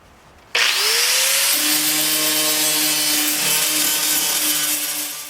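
A power grinder spins up abruptly and grinds down a surface before filler is applied, a loud, steady whine with a harsh abrasive rasp that runs continuously to the end, with no talking.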